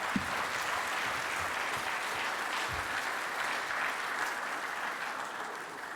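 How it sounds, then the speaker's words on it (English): Steady applause from a conference audience thanking a printer and supplier panel at an annual industry conference, moderately quiet and sustained for several seconds with no talk over it. "let's give our panel a round of applause"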